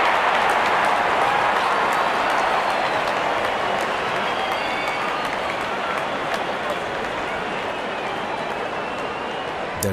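A large crowd at an India versus South Africa T20 warm-up cricket match cheers as the openers walk out, a continuous broad roar of applause and voices, steady and fairly loud throughout.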